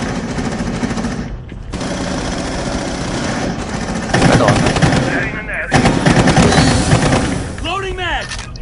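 Rapid automatic gunfire in the Rainbow Six Siege multiplayer game, loud bursts of shooting and clattering action filling the scene while players talk over it.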